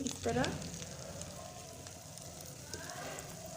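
Egg mixture and two bread slices fry in a pan for fruit toast, giving a steady soft sizzle throughout, with a brief voice near the start.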